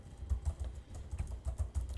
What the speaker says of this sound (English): I'm just typing things.